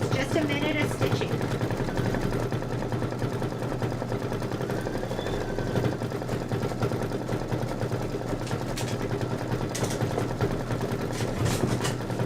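A Kimberbell pumpkins-and-potions embroidery machine stitches out a pattern with a fast, steady mechanical rattle that runs unbroken, close by, with a person talking faintly over it.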